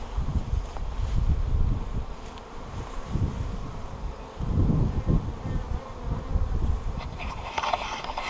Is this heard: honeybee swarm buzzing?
yes